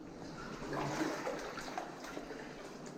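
Water sloshing and rippling inside a flooded tunnel of the old Wet Earth Colliery in Manchester, a steady wet gurgle with echo that lasts throughout, moderately loud and close.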